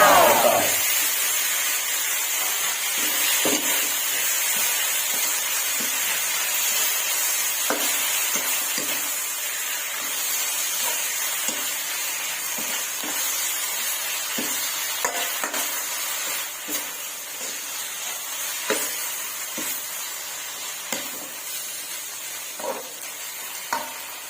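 Rat meat stir-fried in a pan, a steady broad sizzle running throughout, with occasional clicks and scrapes of a utensil stirring against the pan, fairly close and constant.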